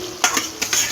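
Chicken pieces go into hot oil and cooked spice masala for a jackfruit-chicken biryani, frying close up with a soft sizzle and two or three scraping stirs in quick succession, with no talk.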